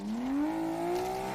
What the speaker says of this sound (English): I like a Lambo V12, and Need for Speed get their V12 engine sounding pretty good